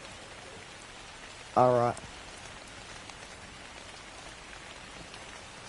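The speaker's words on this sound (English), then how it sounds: "Why is it raining?" Steady rain falls in the survival video game ARK, an even hiss running throughout. A single short spoken word briefly rises over it.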